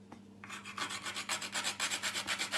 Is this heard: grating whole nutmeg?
yes